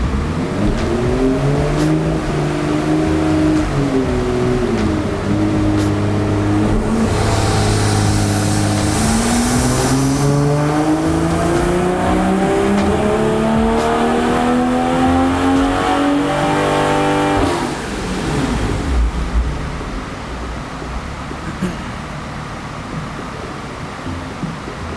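A BMW G20 M340i revs hard on a dyno, its engine note climbing steadily and loudly through a long pull before cutting off and settling to a lower rumble near the end.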